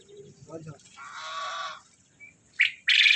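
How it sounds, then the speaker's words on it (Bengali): At a park in Joypur forest near Bishnupur, quail and large ducks give short chirps and squawks, with a few brief bursts separated by quiet gaps and a low voice near the start. "এখানে কোয়েল পাখি আছে, বড় বড় হাঁস আছে"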